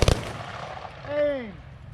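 A ceremonial rifle volley fired outdoors at a flag retirement: a single sharp, loud crack at the very start, then quieter open-air ambience with a brief tonal sweep.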